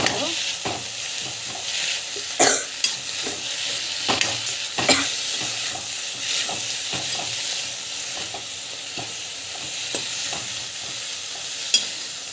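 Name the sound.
sautéing coriander and mint in pan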